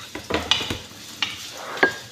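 Onion sautéing in a pan for sweet and spicy prawns, with a soft sizzle under several close clinks and scrapes of a utensil stirring against the pan, no talk.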